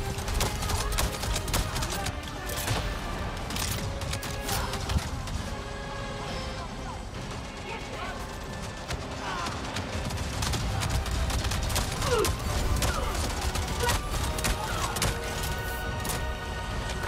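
Shotgun fire in the video game Avatar: Frontiers of Pandora comes as a dense, continuous barrage of sharp blasts and impacts over loud combat noise, with overlapping crashes throughout.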